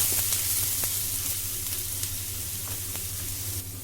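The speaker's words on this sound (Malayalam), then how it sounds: "ഒരല്പം മഞ്ഞൾപ്പൊടിയും ചേർത്തിട്ട് നന്നായിട്ടൊന്ന് റോസ്റ്റ് ചെയ്യാം" Turmeric and other spice powders roast in a pan with a splash of water, giving a steady, close sizzle with faint stirring scrapes throughout.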